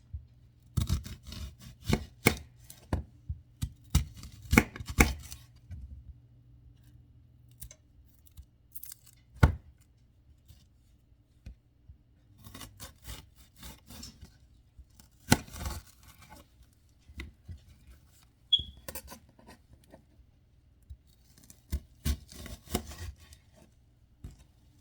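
Onions being chopped on a cutting board while making fish chowder, irregular bursts of knife strokes separated by quiet pauses, close and moderately loud, with no talking.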